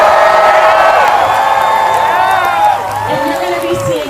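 A large protest crowd at a trans rights rally near NYU cheers and whoops loudly, many voices together forming a dense, close wall of shouting that eases slightly toward the end.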